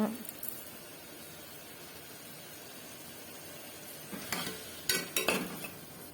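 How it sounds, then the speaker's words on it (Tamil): Chicken biryani ingredients sauté with salt in a pan, giving a faint, even sizzle, then a few close, clattering scrapes of a spoon stirring toward the end. "இதை நல்லா மிக்ஸ் பண்ணி கொடுங்க, வதங்கட்டும். கொஞ்சம் உப்பு சேர்த்து நல்லா வதக்கி விடுங்க."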